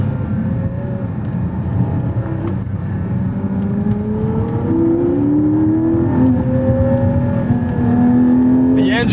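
A Porsche 718 Spyder's engine revs out under acceleration, its smooth tone climbing steadily in pitch over several seconds, loud and close from inside the car.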